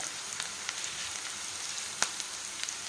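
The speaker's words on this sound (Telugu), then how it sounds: "ఉల్లిపాయలు వేగేటప్పుడే అల్లం వెల్లిపాయ పేస్ట్ వేసుకుందామండి బాగా వేగిద్ది అనమాట" Onions fry with ginger garlic paste for a ridge gourd masala curry, giving a soft, steady sizzle with occasional small pops and clicks close by.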